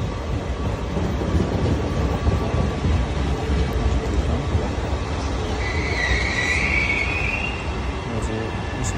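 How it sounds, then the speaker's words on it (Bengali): A large train moves through an Italian station, giving a continuous rumble and rattle of wagons with a brief high squeal midway. It sounds close and fairly loud, with no talking. "বিশাল বড় ট্রেন।"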